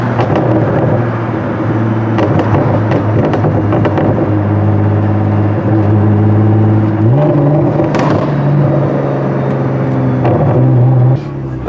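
Nissan GT-R R35 fitted with a pops-and-bangs exhaust tune revs loudly and close, a constant deep exhaust drone climbing in pitch partway through, with a crackle near the middle before settling and dropping off at the end.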